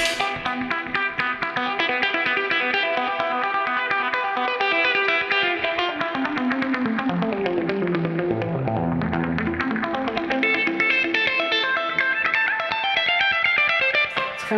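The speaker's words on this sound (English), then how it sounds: "tempo delay again set for dotted eighth notes, single repeat equal volume" Melodic electric guitar playing through a tempo delay pedal set to dotted eighth notes, each note followed by a single equal-volume repeat that creates a steady cascading, arpeggiator-like rhythm.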